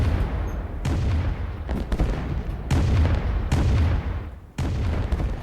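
Artillery fire in the real-time strategy game Rise of Nations, a dense barrage of loud booming blasts with sharp repeated onsets every second or so over a continuous rumbling roar, with no talk.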